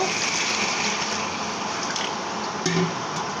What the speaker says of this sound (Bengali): কষানোর জন্য পানিটা দিয়ে দেব